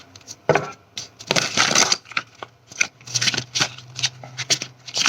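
Tarot cards are shuffled by hand close up. Irregular papery riffles and slaps arrive in quick bursts with short pauses, over a faint low hum.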